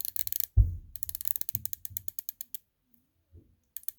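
Bronze Christopher Ward C60 Trident watch bezel turned by hand, giving a run of crisp, close ratcheting clicks in a steady rhythm with a brief pause before a few more clicks.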